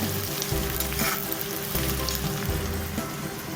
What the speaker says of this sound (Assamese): ভালকৈ পিঁয়াজখিনি ৰঙচুৱা হোৱালৈকে ভাজি ল'ব